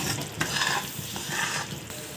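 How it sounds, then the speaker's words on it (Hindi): Besan and sugar stirred quickly in a pan while making laddu, a close, busy scraping and soft sizzling with quick repeated strokes of the spoon, with no voices. "और इसे फटाफट चलाते हुए पकाएं"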